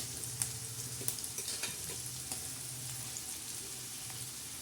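Potatoes, onion, tomatoes and green chillies fry in a pan for a fenugreek-leaf vegetable dish, giving a steady hiss of oil with occasional spoon scrapes and clinks as the food is stirred, close and continuous.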